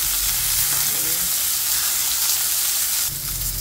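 Fish sizzling steadily in hot cooking oil in a pan, a dense continuous crackle and hiss that stays loud and close throughout, with a brief stir or shift near the end.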